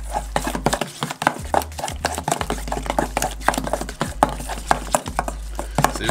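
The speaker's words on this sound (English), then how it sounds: "And you're gonna stir it like this." A spoon stirs tartar sauce loaded with pickle relish in a bowl, making quick, irregular wet clicks and scrapes over a steady low hum.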